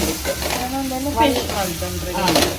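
Coriander leaves fry in a pan with a continuous close sizzle and stirring, while faint tonal sounds drift underneath.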